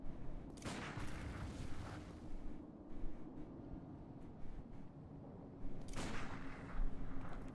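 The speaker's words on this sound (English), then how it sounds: "There are some fireworks in the background." Fireworks boom and crackle in the distance in bursts, with a dense rumbling wash of explosions that fades and returns behind a steady background.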